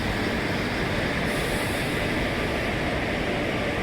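Guruvayur to Thiruvananthapuram Central Intercity Express passing close by, a continuous loud broadband rumble and rush of rolling wheels and air that holds steady throughout.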